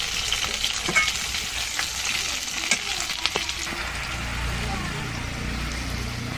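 Green chillies fry in hot oil and are stirred into a taro curry in a home kitchen, making a steady, close sizzle with scraping stirs throughout. A voice can be heard faintly underneath.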